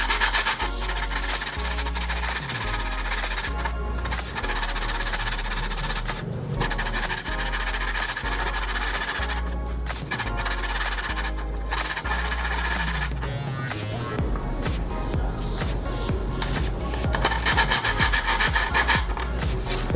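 A bicycle disc brake pad is scraped with sandpaper to remove its glazed surface, a steady, continuous close-up rasping rub lasting throughout with brief pauses between strokes.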